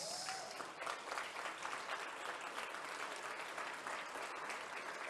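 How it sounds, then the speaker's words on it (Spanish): Congregation applauding during a church sermon, a steady, fairly faint wash of clapping heard from a distance and continuing for several seconds. "Eso merece un aplauso a Dios."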